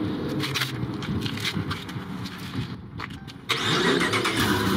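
A supercharged 5.7 Hemi engine runs with a rough, rumbling idle, heard close and loud. It briefly dips before surging back louder and steadier, with scattered noise from the surroundings.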